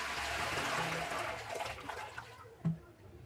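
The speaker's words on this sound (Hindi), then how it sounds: "इसमें अभी पानी नहीं है तो इसमें पानी डाल देता हूँ" Water poured into the empty tank of a homemade rechargeable room cooler, a steady broad splashing and trickling for about two and a half seconds that then thins out, ending with a small thump.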